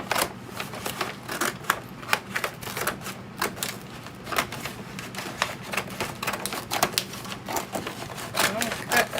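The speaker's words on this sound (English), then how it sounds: "all I have are these scallop scissors, which is what I'm gonna use to cut this off" Scallop-edged scissors snip steadily through brown craft paper pulled from a roll, giving a dense run of crisp, rapid cutting and rustling strokes close by.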